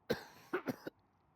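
A person coughs four times in quick succession, a sharp hack followed by three close bursts, near and fairly loud, then quiet.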